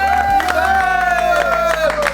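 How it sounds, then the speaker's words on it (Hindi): Students at a mobile phone repair training institute clap together in a short, dense burst of hand claps that runs the whole moment, with a sustained voice carrying over the top. "चलो ताली जाओ।"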